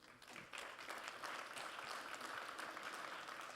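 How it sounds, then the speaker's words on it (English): Round of applause for the panelists at an aviation industry conference session, a steady wash of many hands clapping that swells quickly and then holds even, heard somewhat distantly. "join me to thank our distinguished panelists and all of you who've contributed during this session with a round of applause"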